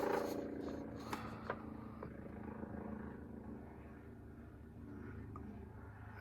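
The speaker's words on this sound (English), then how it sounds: "There's a helicopter." A helicopter passes overhead as a steady low rotor drone and rumble, faint and distant beneath a quiet indoor room with a few small clicks.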